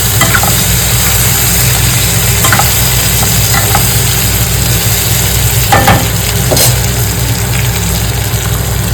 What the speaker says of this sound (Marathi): मस्त फ्राय झाली फोडणी